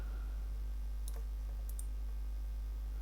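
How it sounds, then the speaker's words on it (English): Computer mouse clicking while selecting an image in a Gmail email signature editor: two or three quiet, sharp clicks alone over a steady low hum. "So you can actually click on here onto the image"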